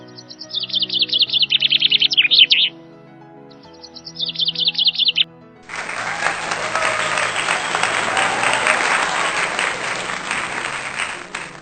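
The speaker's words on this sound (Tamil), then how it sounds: "அனைவரும் உற்சாகப்படுத்தும்படி கைத்தட்டுங்கள்" Circus audience applause rises suddenly and fills the second half, a dense, loud wash of clapping. Before it, bright bird chirps come in two short bursts.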